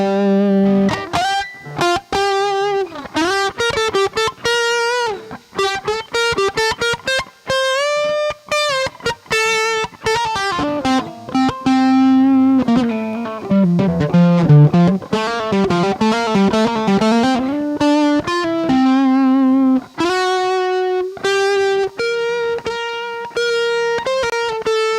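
Electric guitar played with a light overdrive, a continuous run of plucked notes and chords with ringing sustain, loud and close, with no voice over it.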